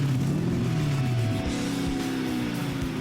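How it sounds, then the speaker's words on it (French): A Lazareth Wazuma V8F motorcycle with a Ferrari V8 engine roars up close with rising, raspy motorcycle-like tones, then drops back as the revs fall and pulses rumble. "ça fait un bruit de moto, ce qui est bizarre pour un moteur Ferrari."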